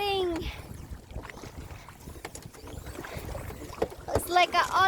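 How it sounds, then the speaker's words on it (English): Paddle strokes dipping and splashing in water beside a small boat drifting at Monkey Mia, with wind buffeting the microphone and voices talking over it. "It's like an Olympic paddling."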